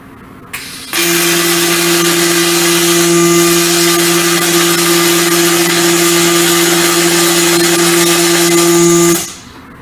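Blaze 7-axis robotic welding arm starting up and running, a steady loud electric whine with sustained tonal hum that holds for about eight seconds and then cuts off.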